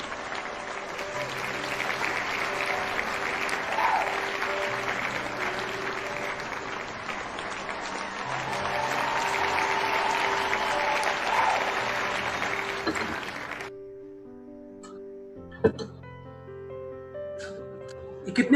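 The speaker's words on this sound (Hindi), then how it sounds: "जबरदस्त ताली, जबरदस्त ताली" An audience gives a talk's guest professor sustained applause, with dense clapping for about thirteen seconds. It then stops abruptly, leaving a quiet room with a few faint knocks.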